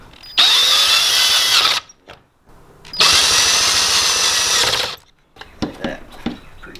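Power tool spinning a nut onto a bolt on a 2002 Acura RSX transmission mount, two loud close whirring bursts of about one and a half seconds each, followed by faint clinks.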